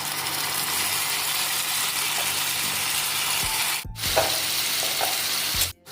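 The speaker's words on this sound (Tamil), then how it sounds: "இப்போ வெங்காயம் நல்லா வதங்கி இதில் தக்காளி சேர்த்துக்கிறோம்." Onions and tomatoes sautéing in oil with spices for semiya chicken biryani: a steady close sizzle with stirring scrapes and a couple of brief breaks near the end.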